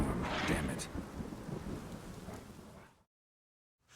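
A thunderstorm with heavy rain in The Witcher 3 game world: a loud, dense wash of rain and low rolling thunder for about three seconds, then sudden silence before a faint sound returns.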